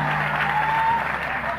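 Audience applause at a mushaira poetry gathering, a steady wash of many hands clapping together, loud and sustained throughout without pauses.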